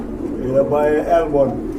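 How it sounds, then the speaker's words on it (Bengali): A male running pigeon coos in a low, rolling call repeated a couple of times, close and fairly loud, with a person talking over it. "এটাও কিন্তু সম্পূর্ণ রানিং কবুতর ডাকতেছে নর"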